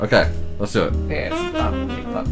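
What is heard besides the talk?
None of the usual background noises is heard.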